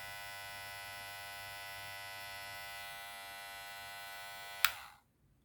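A Powertec TR-6700 hair and beard clipper runs with a steady, close electric buzz that holds evenly, then cuts off with a brief click near the end, leaving silence.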